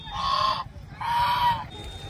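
Geese honk loudly twice in close succession, nasal and drawn-out calls nearby, with low rumbling background noise.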